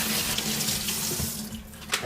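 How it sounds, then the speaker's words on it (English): A kitchen sink tap runs steadily over greens in a colander, giving a close, continuous rinsing splash that eases slightly near the end. "Give it a nice rinse here."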